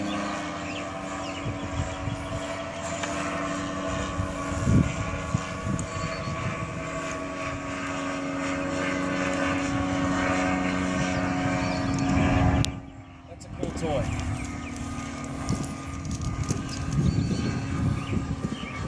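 Ultralight aircraft buzzing low overhead near a model-airplane club field, a steady droning engine with harmonic tones that swells and briefly dips before returning, heard throughout without talk.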